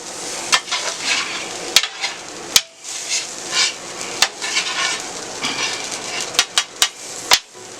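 Metal spatula scraping and clanking as jambalaya is pushed to the middle of a hot steel griddle, with sharp repeated knocks over a soft sizzling bed, close and fairly loud, no talk.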